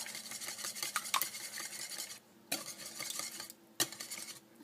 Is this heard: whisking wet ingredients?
yes